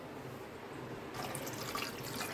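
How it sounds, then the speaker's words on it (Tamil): Water is poured from a small vessel into a pressure cooker holding ingredients for beetroot rasam, a steady splashing rush that starts abruptly partway through and continues close and moderately loud, with no talk. "ஒரு சொம்பு தண்ணி ஊற்றி,"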